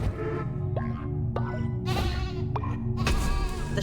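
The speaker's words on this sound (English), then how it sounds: "Listen to the holy baa's of the sheep." Several nasal sheep bleats from the video game Cult of the Lamb, a few short calls spaced a second apart over a constant droning background, close and clear.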